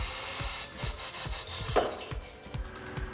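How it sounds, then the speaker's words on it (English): A TWIN BUSCH TW X-36 WDK tyre changer's bead roller pushes a tyre bead over the rim flange, giving a rhythmic rubbing, creaking grind with repeated low thumps at close range and no voices. "With the bead roller, the second bead can be transported over the flange from underneath."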